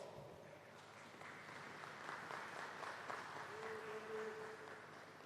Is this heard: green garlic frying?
no